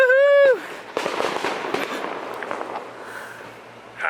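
Fireworks bursting in a string of sharp pops and crackles at close range, preceded by a brief tonal sound and followed by a fading crackle, with voices faintly present.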